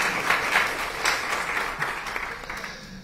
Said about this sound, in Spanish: Ahí, un aplauso, por favor.